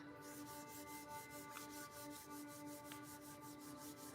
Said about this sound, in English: let's rub our hands and our palms together